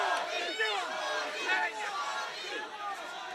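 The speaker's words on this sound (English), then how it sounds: "Crowd is into it." A boxing crowd at the Sean Monaghan vs. Michael Glenn fight cheers and roars as a steady, excited wash of noise. A commentator's voice runs over the crowd.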